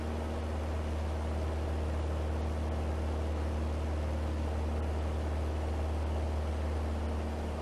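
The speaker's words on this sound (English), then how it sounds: "It sounds like our engine is losing a little bit of power as well" A PA-28 Cherokee's piston engine drones in Flight Simulator X, a steady, close, monotonous hum with no clear change in pitch or strength over several seconds, alone without talk.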